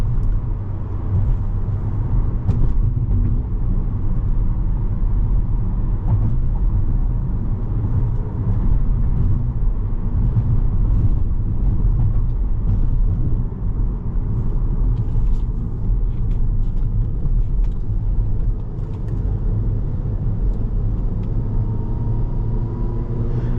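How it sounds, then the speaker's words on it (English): A manual VW Jetta cruising on a highway in the rain gives a steady, loud low rumble of road and engine noise, continuous throughout with no talk. "The car sounds great,"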